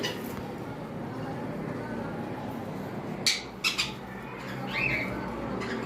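Cockatiels in a breeder's aviary give a few sharp, loud squawks and shrill calls over a low background murmur of voices and room noise, with a bird close by.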